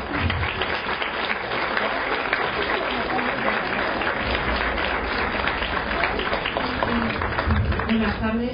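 Warm audience applause greeting a translator at a talk on translation and art, a continuous wash of many hands clapping at an even level for the whole stretch, with murmured voices underneath.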